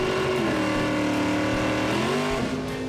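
A historic race car engine roars loudly and steadily nearby, its pitch dipping and climbing as it revs, with no talking.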